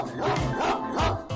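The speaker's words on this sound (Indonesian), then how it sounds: "Anjingku, terkadang menggonggong pas lagi mimpi." A dreaming dog gives several quick muffled yips and soft barks in a close, uneven burst, mixed with whimpering tones.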